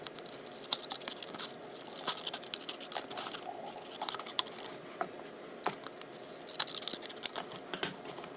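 Scissors cutting out a paper piece for a mixed media gift box and envelope collage, a run of crisp snips and rustling paper handling, close and fairly quiet, with no talking.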